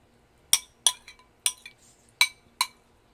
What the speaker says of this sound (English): spoon those shrimp with that sour cream here across the top of that queso